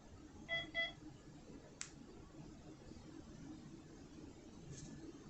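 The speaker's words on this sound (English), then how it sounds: "You'll hear a beep and the green light goes out." A Victor Reader Stream second-generation player gives a short power-off beep, a quick faint double tone followed by a soft click and quiet room hiss.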